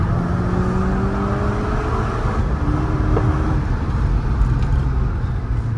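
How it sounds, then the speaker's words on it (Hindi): A DSG-swapped car's engine roars and hums from inside the cabin during a full-RPM launch, a loud steady drone with a rising tonal whine over the whole stretch. "चलो चलो चलो बंद करो गाइस, लॉन्च कर रहे हैं फुल आरपीएम पे।"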